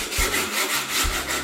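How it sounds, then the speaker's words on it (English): Sandpaper rubbing back and forth over electronic piano key parts to clear debris from broken boards, a steady close scratchy stroke repeated about three times in quick rhythm. "is to use a little bit of sandpaper"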